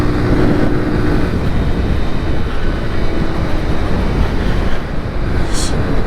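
A 2020 Kawasaki 125 motorcycle with about 8 horsepower runs at full throttle near 50, a steady loud engine roar with heavy wind rumble throughout, no pauses.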